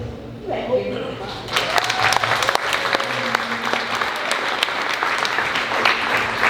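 An audience breaks into sustained applause, many hands clapping in a dense, steady wash that builds after a moment and stays loud throughout, with voices talking over it.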